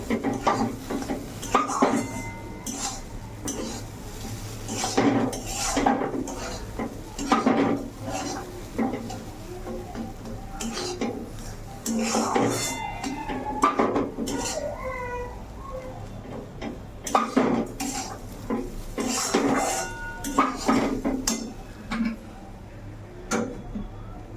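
Semolina and sugar being stirred in a metal pan, with repeated scraping and clanking of a spoon against the pan in an irregular rhythm, close and fairly loud. Someone talks intermittently over the stirring.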